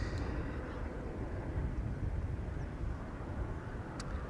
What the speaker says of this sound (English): There's a helicopter hovering here over the area